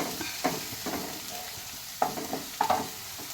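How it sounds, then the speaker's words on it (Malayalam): Ivy gourd and egg stir-fry ingredients fry in hot oil in a pan, a steady close sizzle broken by a few soft stirring scrapes and spatters, with no voices. "അത് എണ്ണ കിടന്നിട്ടൊന്ന് മൂക്കട്ടെ"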